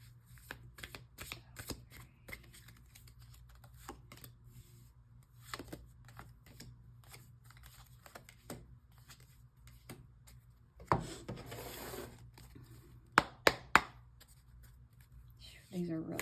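Large, heavy tarot cards being shuffled in loose, uneven bursts, with a busier riffling stretch near the end and a few sharp taps; a low steady hum sits underneath, and a voice speaks now and then.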